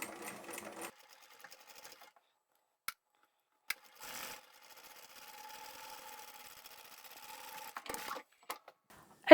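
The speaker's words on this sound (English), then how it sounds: "I always like to triple stitch over that" A sewing machine triple stitches over a seam in the middle of a reversible sling bag, with a soft steady run of a few seconds between short bursts and scattered clicks and handling taps, faint and close.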